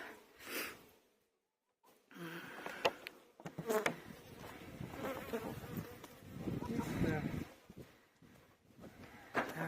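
Honeybees buzz around multi-storey beehives during mite treatment, a close, fluctuating drone with breathy noises and brief gaps, loudest toward the middle and end.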